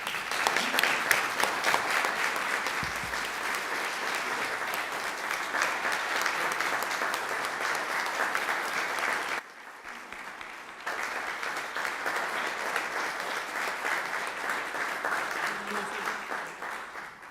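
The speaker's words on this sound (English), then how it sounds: "So when you give Jack a round of applause" An audience at a city council meeting of the Board of Mayor and Aldermen in Bartlett gives a long, steady round of applause, dense clapping at moderate level, broken by a brief lull midway before resuming.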